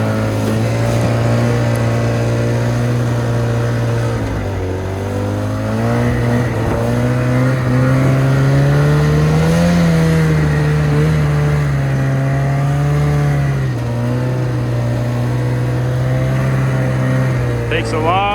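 Ski-Doo Skandik snowmobile laden with a high payload, churning through knee-deep snow on a trail being packed for hauling; a steady, close engine drone that rises and falls in pitch as it works, running continuously.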